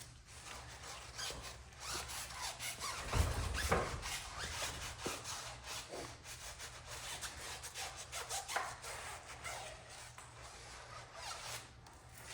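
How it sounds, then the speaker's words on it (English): A stiff bristle brush scrubs a tire on a Hyundai Elantra being detailed, producing quiet, rapid back-and-forth rasping strokes in an uneven rhythm, with a louder scrub around the middle. "So that's just a stiff bristle brush that he's using on the tire."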